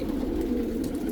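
Hungarian and Dutch racing pigeons coo in a crowded loft, a soft, continuous murmur of low burbling calls heard at close range.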